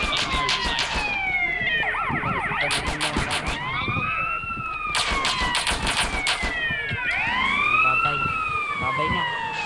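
Police siren in the GTA video game, a loud wailing and yelping tone that sweeps up and down repeatedly, with bursts of rapid warbling, played under game noise.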